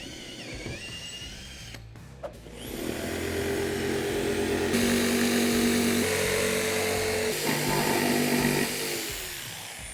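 A jigsaw saws through a wooden cornhole board, its loud steady motor whine running close and continuous after a brief start-up, with small shifts in pitch as the cut proceeds.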